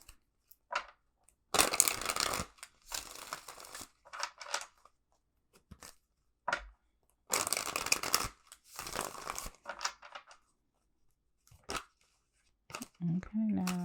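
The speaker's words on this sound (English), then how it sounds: "let me shuffle these real quick." Tarot cards being shuffled by hand in bursts of crisp riffling and slapping, close and fairly loud, separated by quiet pauses, with a brief voice near the end.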